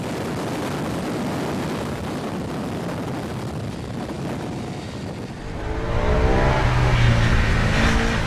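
A Ducati Streetfighter motorcycle engine roars steadily at high revs, then surges louder in a rising acceleration with a climbing whine near the end, with no talking.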